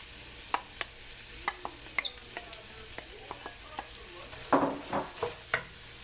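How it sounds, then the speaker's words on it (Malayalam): Chopped onions hit hot oil in a pan for a chicken biryani, giving scattered soft ticks and clicks that swell into a brief sizzling burst near the end, fairly quiet and close. "ഇനി ഇതിലേക്ക് നമുക്ക് നമ്മൾ അരിഞ്ഞു വെച്ചിരിക്കുന്ന സവാള ആഡ് ചെയ്ത് കൊടുക്കാം"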